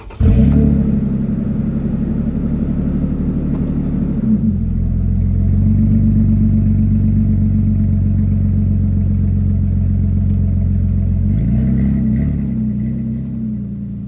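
A Toyota Tacoma engine with a Flowmaster Super 10 exhaust holds a loud, deep, steady rumble up close, its tone shifting slightly at a couple of points as the revs change.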